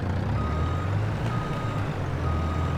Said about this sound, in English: What a great lorry.